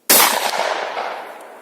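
A single loud, close gunshot rings out while shooting at coins from 65 metres outdoors, a sharp crack followed by a long fading echo with nothing else over it.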